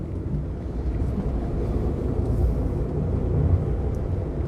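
A car engine pulls steadily after an upshift from second to third gear, a low continuous rumble that swells slightly midway, with no talk over it.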